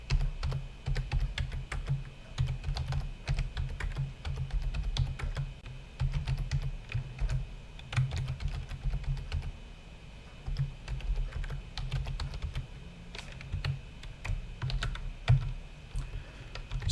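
Code is typed on a computer keyboard in a fast, irregular stream of close key clicks and clacks that runs throughout, with brief pauses.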